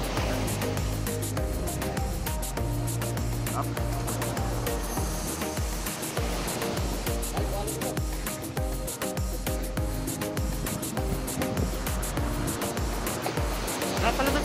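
Steady roar of surf breaking on a shore, continuous and loud, with a constant wash of spray and no voices.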